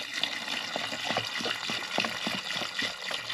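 Super Clean degreaser, used undiluted, pours into a small plastic tub with a drain plug, giving a soft, irregular splashing and trickling, close and moderately quiet.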